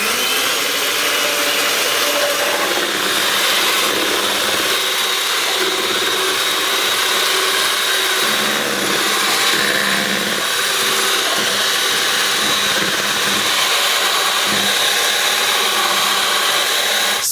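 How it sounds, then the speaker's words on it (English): Electric hand mixer whipping cake batter of eggs and other ingredients at top speed, a loud continuous high-pitched whine with slight wavering, close and alone for the whole stretch. "we're gonna mix all of these ingredients with a mixer at the highest speed"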